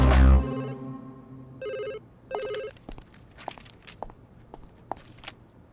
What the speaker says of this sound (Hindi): ए मनीषा, तुझे रिलायंस का फोन क्या दे दिया तो तू क्या बार-बार करती रहेगी?